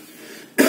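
A single short, sharp cough bursts out after a moment of quiet room tone.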